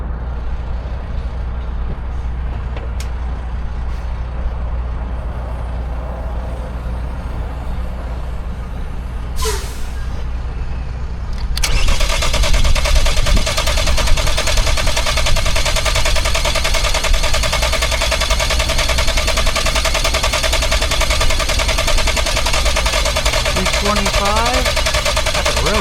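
A worn Chevy Malibu with very high mileage cranks over on its starter, a steady loud churning that kicks in partway through after a quieter idle-like hum with a sharp hiss, then drones on continuously.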